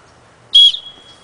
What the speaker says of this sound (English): So here's to test the whistle.